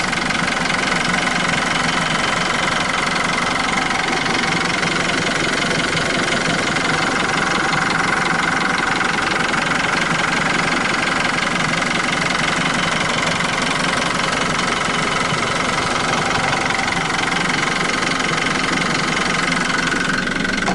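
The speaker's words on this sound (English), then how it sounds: "That's the NO4C motor with a turbo." A turbocharged Toyota Coaster N04C diesel engine from a 2010 bus idles with a steady, loud, even clatter that runs unbroken throughout, heard close up.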